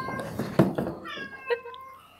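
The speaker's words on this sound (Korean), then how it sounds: "어디서 고양이 소리가 나지?" A cat meows at a surprise birthday party, two short rising cries heard after a burst of voices, the first partly under talk and the second clearer and alone before the room quiets.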